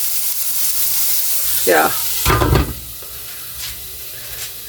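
Food sizzles and hisses steadily while sautéing in an Elite Gourmet electric cooker set around 250 to 300 degrees, with a brief stir and a short spoken word over the constant frying noise.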